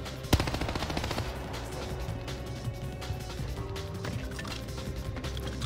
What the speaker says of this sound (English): Tommy gun does have a lot of recoil